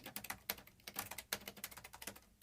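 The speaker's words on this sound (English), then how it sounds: "And then he continues typing and types for a while and a while longer." Rapid keystrokes on a computer keyboard during a tabletop Alien role-playing game session, a steady run of close, crisp clicks with no talking.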